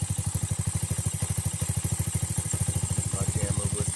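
A Mutt Grom motorcycle fitted with a Nibbi carburetor idles with the choke off, a close, steady, rapid thumping pulse that keeps an even rhythm throughout.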